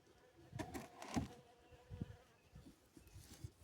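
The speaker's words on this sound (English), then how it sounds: "there is a bees" Faint buzzing of bees around a wooden Warre beehive, a few brief close passes rising over a quiet background.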